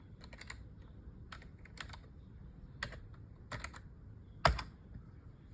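Bursts of keystrokes on a computer keyboard while code is being written, quick clusters of close, crisp clicks separated by short pauses, ending with a sharper hard tap, and no one speaking.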